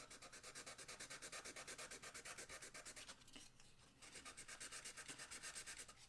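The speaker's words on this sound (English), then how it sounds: "it's 120 grit, so it's quite a fine grit sandpaper, and I'm just going to go in and lightly press." Fine 120 grit sandpaper rubbed lightly back and forth in a steady, rhythmic scratching close by, with a brief pause before the strokes resume.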